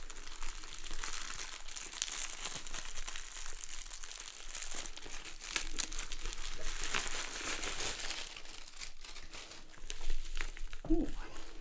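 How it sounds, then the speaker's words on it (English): Steady plastic crinkling and crackling of bubble wrap, close up, continuing throughout with a few sharper pops near the end. "Ooh, bubble wrap."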